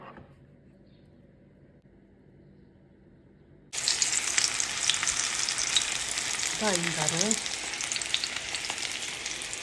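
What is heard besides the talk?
battered zucchini frying in oil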